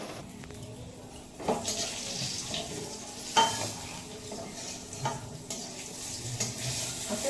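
Steady sizzling of pointed gourd frying in a pan, broken by a few sharp scrapes and clinks as the pieces are stirred and turned.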